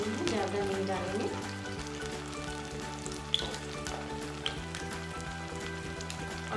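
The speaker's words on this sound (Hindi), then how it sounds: "तो अभी ऑयल जो है वो गर्म हो गया है। अब हम इसमें एक एक करके इनको फ्राई कर लेंगे।" Poha and potato cutlets frying in hot oil in a pan, a steady soft sizzle and crackle running throughout at close range, with faint background music underneath.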